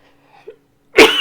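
One sharp, loud sneeze bursts out close up after a faint intake of breath, standing alone against near silence.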